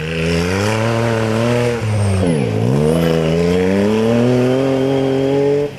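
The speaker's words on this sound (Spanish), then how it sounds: "se ponía a los mandos por vez primera de su nuevo buggy, creado para el Dakar 2022" A rally buggy built for Dakar 2022 by Galician tuner Jacar roars close by at a Rallymix stage in Cuntis, its engine holding a loud steady pitch, dipping sharply as it lifts off mid-run, then revving back up and climbing.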